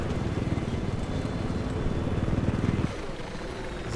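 A helicopter in Battlefield 4 thunders up close with a rapid, steady rotor chop that cuts off sharply near the end, leaving a lower engine drone.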